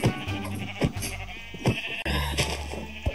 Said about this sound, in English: Oh, it's multiplying my sheep.